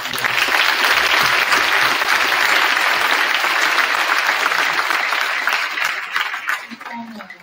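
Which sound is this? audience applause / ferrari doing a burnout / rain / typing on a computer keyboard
audience applause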